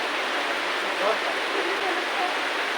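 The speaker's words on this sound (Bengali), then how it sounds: "অনেক বৃষ্টি নামছে অনেক বৃষ্টি" Heavy rain pouring down outdoors, a steady dense broadband hiss like a downpour that holds level throughout with no other clear sounds.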